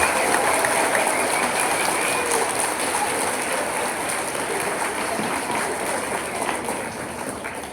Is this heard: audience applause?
yes